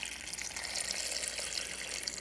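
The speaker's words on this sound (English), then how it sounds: "And now I'm just gonna add filtered water." Filtered water pours from a Brita pitcher over bone broth ingredients, a steady, close splashing hiss that runs without a break. No one speaks.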